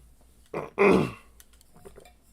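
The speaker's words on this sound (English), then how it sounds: "I've been trying to clear my throat for like 5 minutes." Someone clears their throat twice close to the microphone, a short rasp followed by a longer, gravelly one, then quiet.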